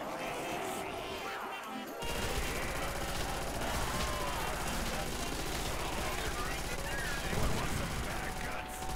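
Sustained automatic gunfire mows down zombies on a custom Call of Duty zombies map. Rapid shots run almost continuously at steady high loudness, mixed with crashing and impact effects after a quieter opening two seconds.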